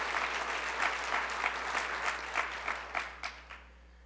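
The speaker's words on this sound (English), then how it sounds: "Let's give them a round of applause for that." A round of audience applause at a county State of the County address, with dense clapping from a seated crowd that thins into scattered claps and dies away by the end.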